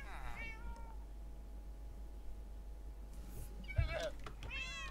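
Minecraft cats meowing in the game, a couple of short meows near the start and more toward the end over a constant low background hum.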